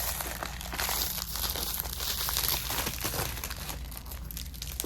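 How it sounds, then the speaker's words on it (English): Plastic packaging around a pumpkin door sign crinkles and rustles continuously as it is unwrapped, a close, moderately quiet crackle lasting several seconds. "Sorry for the crinkling."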